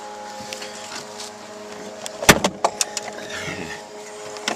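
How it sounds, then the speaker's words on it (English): Plastic side trim panel on a Hyundai Tucson being pulled away from the car body, a cluster of sharp snapping clip releases in quick succession over a steady background hum. "You can hear the clips pull back."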